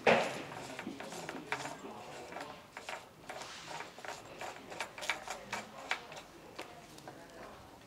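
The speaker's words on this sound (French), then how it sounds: "On utilise encore une fois l'outil à 5 picots pour serrer." Clicking ratchet-like ticks as a five-pin tool tightens a bicycle headset on a Pivot fork, a rapid uneven series of small metallic clicks, quiet and close.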